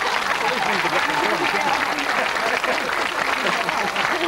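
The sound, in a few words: studio audience applause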